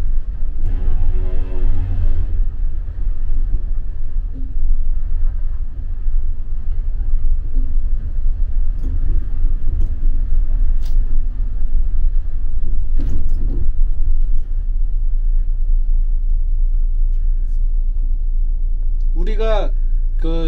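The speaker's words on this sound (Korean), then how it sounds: "이게 쫙 풀려서 화물차들이 지금 이제 들어가고 있는데요" Cargo trucks drive along a snowy mountain road toward Kazbegi in the Caucasus, heard as a loud, steady low rumble of engines and tires. A brief tonal sound rises near the end.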